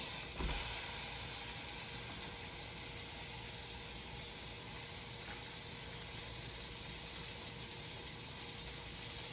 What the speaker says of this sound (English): Here's the steak, and now the sizzle.